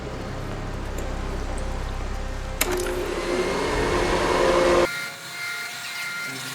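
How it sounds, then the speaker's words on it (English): A vacuum cleaner runs inside a Dubai penthouse suite in the video game Hitman 3, a steady motor whine that rises in pitch after a sharp click, then cuts off abruptly, leaving quiet background hum. "we want to use this hoover that's just outside the room"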